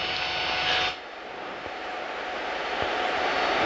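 A small airplane takes off from a grass strip roughly 1,400 feet long at Aero Acres near Portland, its engine a steady, loud droning roar that eases slightly after a second and then holds.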